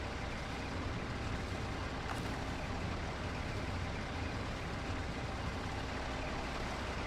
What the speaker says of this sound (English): Why can I hear an engine running when I've just turned them both off?